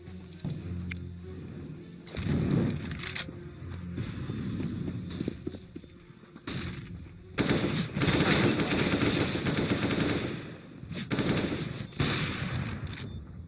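AK rifle fire in a competitive first-person shooter match comes in dense automatic bursts, loud and close, broken by short pauses between several long volleys.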